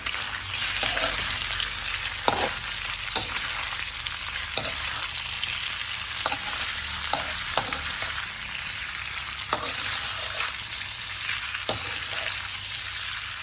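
Chicharon (pork rind) frying in hot oil in a pan: a steady, dense sizzle with scattered sharp pops and crackles throughout, heard up close with no talking.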